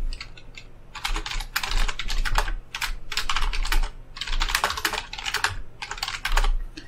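Rapid typing on a computer keyboard while composing an email reply, close and steady bursts of key clicks with short pauses between words.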